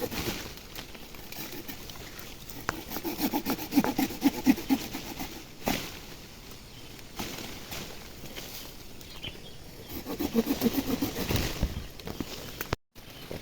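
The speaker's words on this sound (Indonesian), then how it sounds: "jadi harus kita gergaji, kita potong." A hand saw cuts through a tangled arabica coffee tree branch during pruning, giving two bursts of steady rasping strokes separated by a pause, close by with no talking.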